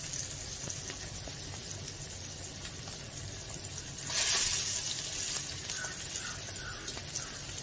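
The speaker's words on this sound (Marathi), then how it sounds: "ते थोडे भाजल्यानंतर पलटी मारून घ्यायचं, म्हणजे दुसऱ्या बाजूला सुद्धा व्यवस्थित भाजले पाहिजे" Malvani-style fish frying in a hot pan: a steady, close sizzle throughout, with a louder surge of spitting oil about halfway through as the pieces are turned, then settling back to an even crackle.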